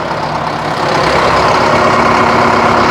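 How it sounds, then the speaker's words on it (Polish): A Liebherr diesel engine on a 250-tonne mobile crane idles steadily, loud and close, with a constant rumbling drone that swells slightly after the first second and holds without a break. "to są pierdzące silniki Liebherra, które są droższe w eksploatacji od Mercedesa"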